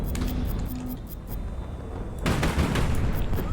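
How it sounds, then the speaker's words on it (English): Large naval guns in HighFleet fire a heavy volley that bursts in suddenly partway through, a loud booming salvo following a quieter rumbling lead-in. "That was a great volley."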